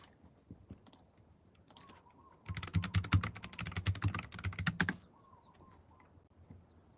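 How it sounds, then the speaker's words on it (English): Rapid typing on a Bluetooth computer keyboard, a dense burst of clicking keystrokes lasting a couple of seconds in the middle, with quieter scattered taps before and after. "My Bluetooth keyboard turned on midway."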